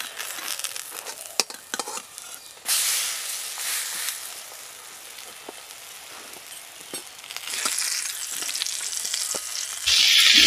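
Stuffed bottle gourd leaf parcels filled with small fish fry in a pan, a steady close sizzle swelling louder at intervals as the parcels are turned, with scattered light clicks and scrapes.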